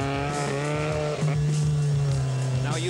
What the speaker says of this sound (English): Don't be afraid, just accelerate more.